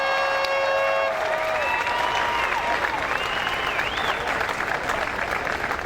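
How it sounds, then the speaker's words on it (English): An audience in Newark, New Jersey gives young people a round of applause, a thick continuous clapping with some cheering, while a few voices and whistles rise above it at the start. "I just want us to give all of these young people that made it to the end a round of applause."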